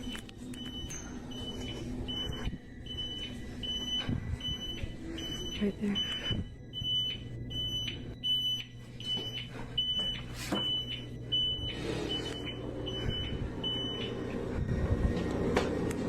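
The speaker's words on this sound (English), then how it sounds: "That's the alarm that's going off." A nurse call alarm in a nursing home beeps repeatedly in a steady, high-pitched pattern for many seconds, persisting under and between bursts of conversation and room noise.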